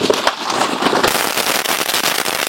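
Sivakasi firecrackers being tested go off in a rapid, loud burst of sharp crackling pops close by, a dense string of bangs filling the whole moment.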